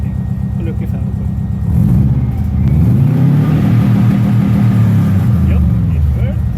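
A Subaru engine revs hard during flat-foot shifting, a loud, close, rising drone with pulsing harmonics that dips briefly at the shift and climbs again, with people talking over it.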